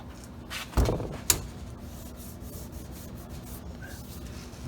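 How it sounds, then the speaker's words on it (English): Alcohol pad rubbed across the corner of a rusty Ford F150 truck cab, giving a couple of short, close scrubbing swipes followed by quiet background. "we're going to wipe off where this is double back tape's going to go"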